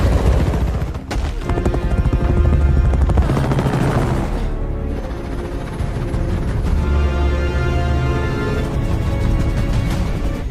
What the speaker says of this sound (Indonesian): Di saat itu juga, Andy mendengar suara heli